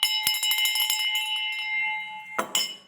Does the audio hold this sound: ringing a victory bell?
yes